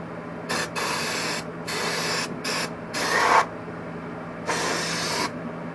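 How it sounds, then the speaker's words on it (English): Brake cleaner sprayed onto a part from a Yamaha DT 250 top end, in five or six close hissing bursts of a second or so each, separated by short pauses. "give her another little shot of brake clean"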